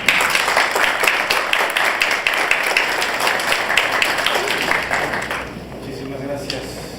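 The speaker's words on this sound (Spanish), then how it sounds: "Prendemos un fuerte aplauso" An audience at a law congress bursts into applause. The clapping is loud and dense at first, then thins and fades toward the end.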